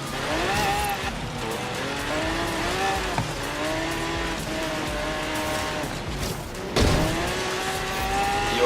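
Racing cars in Forza Horizon 3, including an abandoned car, roar steadily at close range with rising and falling engine revs, squealing tires and a sharp burst of engine noise near the end; no one speaks.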